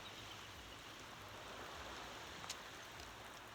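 Steady rain falls in Kodiak, Alaska, a dense, even hiss with no breaks and one faint click near the end.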